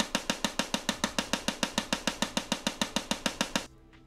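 Silenced pistol in the Fortnite Battle Royale game firing at its maximum rate, about 6.75 shots a second: a fast, even string of sharp, suppressed pops lasting roughly three and a half seconds, then stopping abruptly into quiet.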